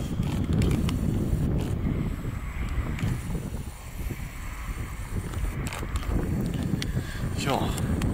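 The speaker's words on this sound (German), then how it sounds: "Oh, der Wind ist ganz schön frisch, ey." Strong wind buffeting the microphone in a steady low roar throughout, with a person talking intermittently over it outdoors at a wind farm.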